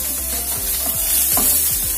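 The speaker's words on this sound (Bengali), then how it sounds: "নুন, হলুদ এবং লঙ্কা গুঁড়ো সমস্ত সবজির সাথে খুব ভালোভাবে মিশিয়ে দিয়ে" Cauliflower stems being stirred in a wok with salt, turmeric and chilli powder, with a loud continuous sizzle of frying and a spatula scraping in a steady rhythm roughly every third of a second, close up and with no voices.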